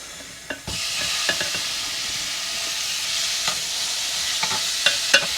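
Pork pieces sizzle steadily in a hot pot at the start of kimchi jjigae, a continuous frying hiss broken by a few sharp pops and stirring clicks, close and fairly loud with no talking.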